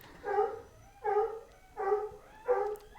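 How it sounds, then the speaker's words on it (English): Dogs bark at the house as a mail carrier arrives, four clear, evenly spaced barks about a second apart, fairly close and loud, with no talking over them. "Sorry about my dogs."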